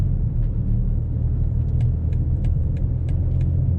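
A 2019 BMW X5 30d xDrive cruises along a road at about 70 km/h, its steady low engine and tyre rumble continuous and close, with faint light ticks above.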